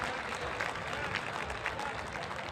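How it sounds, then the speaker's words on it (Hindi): Audience at a Hindi poetry gathering, a kavi sammelan in Kota, applauding in a steady, dense wash of clapping from a large crowd, with no pause. "एक बार जरा ऊंची तालियां बजाकर उसे आशीर्वाद"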